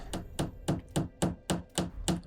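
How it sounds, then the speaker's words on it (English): Hammering rings out in the video game Dark Souls 3 as eight evenly spaced metallic strikes at a steady, brisk rhythm, moderately close and clear with no talk. "I hear hammering again."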